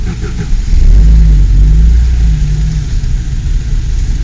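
A Lada Zhiguli or Niva engine revs hard at full throttle, a loud, close, deep growl that surges and then holds steady, with no talk.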